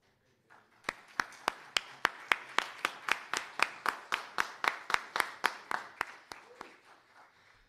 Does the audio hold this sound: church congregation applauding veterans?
yes